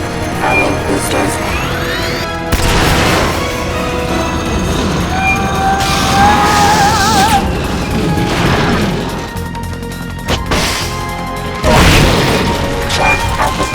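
A tracked boss unit in Metal Gear Solid Peace Walker fires its boosters, with loud rumbling blasts and mechanical clanking that swell in several surges, plus a high whine and electronic tones over a constant heavy roar.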